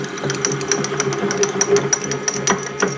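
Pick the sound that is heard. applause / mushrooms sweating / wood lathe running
wood lathe running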